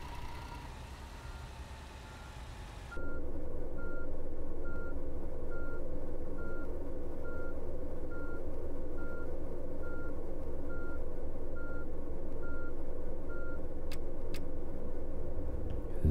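A team bus in a driving simulation game reverses, its backup alarm beeping in a steady, evenly spaced series over a low idling engine hum, with no talk.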